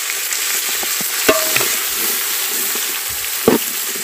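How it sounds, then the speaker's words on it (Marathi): Jackfruit pieces sizzle loudly in hot tempering with turmeric over an outdoor wood-fired stove, a continuous close frying hiss broken by a few stirring knocks and scrapes. "आता आपण गरे टाकतो."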